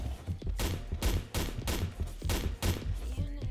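Sniper rifle fire in the shooter XSHOT: a loud, rapid string of about six booming shots comes in quick, even succession, each with a short echoing tail.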